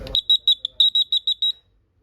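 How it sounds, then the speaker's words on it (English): An electronic buzzer on a trainer board gives a rapid series of about ten short, shrill high-pitched beeps close by, then stops into silence. "Now next, coming to the buzzer."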